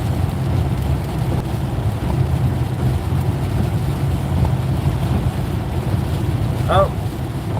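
Outdoor wind blows steadily as a storm builds, a continuous rushing noise battering the microphone with low buffeting, and a voice speaks briefly over it.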